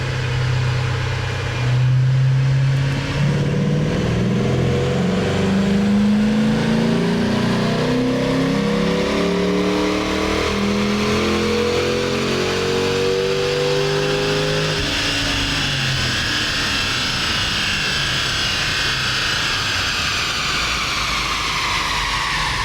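A warmed-up Ford Mustang GT on a dyno, its engine climbing steadily in a long, loud pull that peaks in pitch before easing off into a sustained high roar, with no voices.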